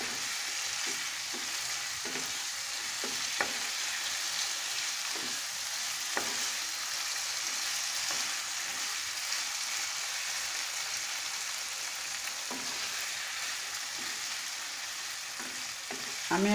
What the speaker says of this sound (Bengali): এখন আমি এই টমেটোটাকে একটু কষিয়ে নিব।